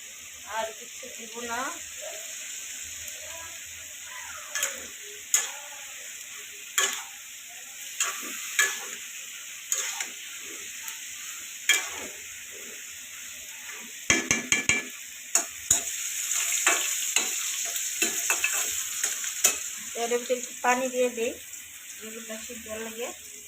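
Red amaranth greens and eggplant frying and being stirred in a pan, with a steady sizzle broken by repeated sharp scraping strokes and a louder hiss midway, while a person talks intermittently.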